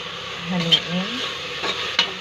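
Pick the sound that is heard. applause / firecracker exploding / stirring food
stirring food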